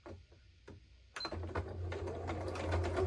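A sewing machine stitches a line of a Christmas door-panel craft project, starting with a few isolated clicks before running into a steady, close mechanical whir that continues to the end, with no talk.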